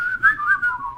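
A person whistles a short, bright, wavering tune for about a second, close and clear with no talking over it.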